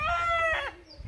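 A pet rooster crows once nearby, a short bright cock-a-doodle-doo with a rising then falling harmonic call, followed by a brief faint chirp as it fades.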